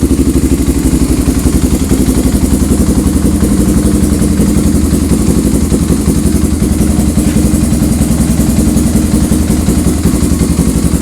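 A motorcycle engine idles steadily up close, a loud, deep and continuous throb with a fast, even pulse that never lets up, heard alone with no talking.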